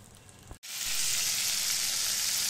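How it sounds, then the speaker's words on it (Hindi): Butter melting and sizzling in a pan on a gas stove, a steady bright frying hiss that starts abruptly after a brief quieter moment and holds loud and close without pause. "बटर अपना मेल्ट होने लगा है"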